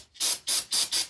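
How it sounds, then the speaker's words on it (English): Carb cleaner sprayed through the ignition points of a vintage Briggs and Stratton engine, four short bursts of bright aerosol hiss in a steady rhythm, close and alone. "we'll spray through them with some carb cleaner"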